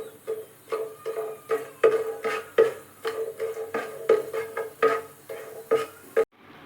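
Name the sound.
stirring whole spices in hot oil in a pan for chicken curry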